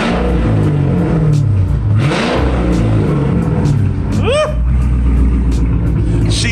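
Car engine revving hard in a single burst with a rising, roaring tone over a steady rumble, loud and close, with background noise and a brief whistling sweep.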